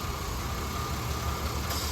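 Car engine running steadily and loud throughout, with a low rumble, during a test where the EGR solenoid is jumped straight from the battery before the engine stalls.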